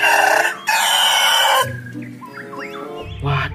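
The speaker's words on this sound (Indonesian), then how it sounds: "ternyata ini ayam jago" A rooster crows loudly and close by in a long cock-a-doodle-doo, then makes softer clucking sounds afterwards in a cartoon animal setting.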